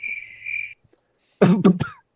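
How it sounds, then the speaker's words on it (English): A cricket chirps in a steady trill, followed after a short pause by a louder burst of rough, cough-like sounds close by. "It's got crickets."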